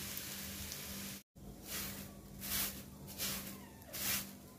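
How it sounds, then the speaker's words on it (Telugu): Poha, flattened rice, fries in oil with turmeric, giving a soft, steady sizzle and crackle with brief louder hissing bursts, faint and close, after a short cut near the start. "ఇదే ఆయిల్లో కొంచెం పసుపు వేస్తున్నా. ఇందులో అటుకులు వేసి వేయించుకుందాం."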